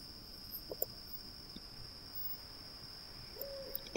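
An eagle-owl hoots faintly in the German-dubbed stealth video game Harveys Neue Augen, sounding a few soft, distant calls over a quiet ambient background with a steady high tone.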